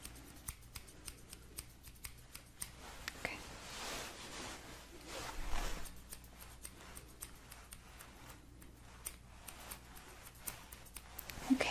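Snipping scissors, crisp repeated cuts close up, with soft whispery rustling between the snips and a steady faint background hiss.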